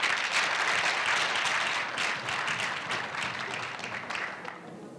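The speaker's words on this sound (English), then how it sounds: "I believe that they deserve another round of applause." An audience at a public engagement event breaks into sustained applause, many hands clapping in a broad, fairly distant wash that gradually fades toward the end.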